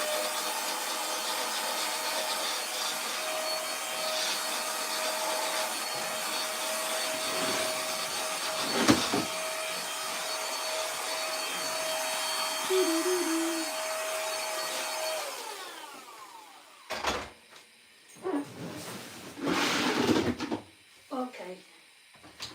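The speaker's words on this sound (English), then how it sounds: "you vacuum it" A vacuum cleaner sucks up scattered cabbage in a kitchen, a steady whining hum for about fifteen seconds with rattles as pieces are drawn in, then stops and is followed by clattering and handling noises.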